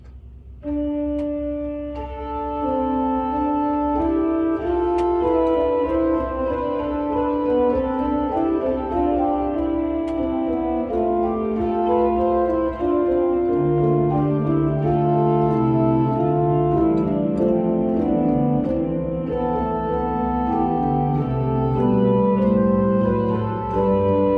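Sustained pipe organ music with several held voices and a steady low line underneath, the cantus firmus played on the pedals, continuing without talk.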